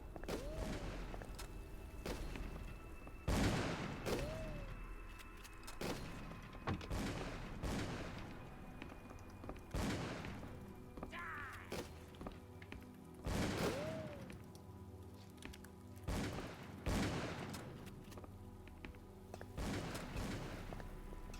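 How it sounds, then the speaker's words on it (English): Gunfire in the video game Call of Cthulhu: Dark Corners of the Earth, with sharp booming shots spaced every few seconds over a low background, some followed by short descending tones. "Keep shooting!"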